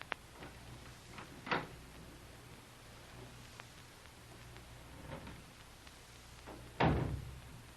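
Door in an old rock-cut cellar creaking and knocking open, a few sharp thumps and clunks spread across quiet room tone, the loudest bang near the end.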